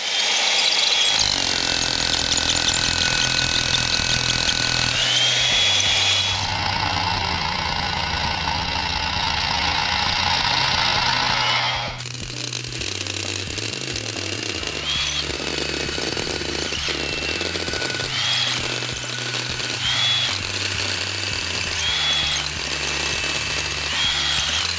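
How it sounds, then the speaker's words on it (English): Power drill driving a bit into the ground at a house foundation on a steep slope, a loud continuous motor whine that shifts pitch in stages as load changes, close and alone without speech. "we don't have the added benefit of gravity driving the drill bit into the ground"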